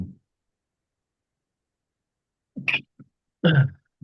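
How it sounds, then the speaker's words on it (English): A close sneeze breaks an otherwise quiet stretch: a short sharp intake followed by a forceful burst, with a soft trailing noise. "I'm about ready to sneeze"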